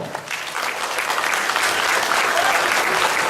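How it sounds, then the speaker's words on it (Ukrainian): A large audience at the opening of the Carpathian Cup tournament applauds officials and participants, a dense, steady wash of clapping that swells slightly and holds at full strength. "Оплесками привітаємо!"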